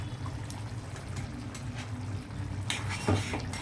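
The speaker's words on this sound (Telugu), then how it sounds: "మిక్సీ జార్ కడిగి కొద్దిగా వాటర్ వేస్తాను" Water from a rinsed mixer jar is poured into a pan of gongura with raw prawns, a soft, continuous splash mixed with faint clinks of the jar and utensils.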